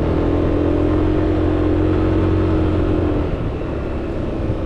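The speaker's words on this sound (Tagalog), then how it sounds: "Yung motor pala namin ay Aerox 155." A Yamaha Aerox 155 scooter climbs a steep, winding mountain road in Cebu, its engine droning loud and close under strain with steady wind rush, easing slightly near the end.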